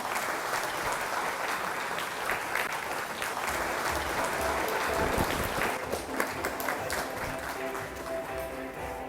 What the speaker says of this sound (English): please give big round of applause for Prime Minister of Timor-Leste